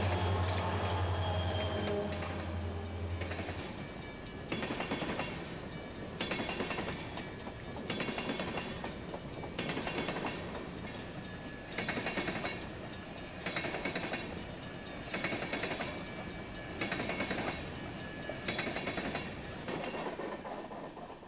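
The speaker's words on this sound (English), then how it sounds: "Train E450, a Walbridge extra, leaves the Wyoming yard with the West Olive coal empties." A CSX freight train of empty coal hoppers, led by road slugs built from GP30s, pulls out of Wyoming yard near Grand Rapids, Michigan, in 1991. Rhythmic clickety-clack of wheels over rail joints repeats steadily at moderate distance.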